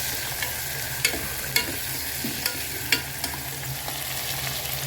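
Onions and green chillies fry in a pan for a chicken biryani, giving a constant close sizzle broken by several sharp clicks of the stirring spoon, no talking.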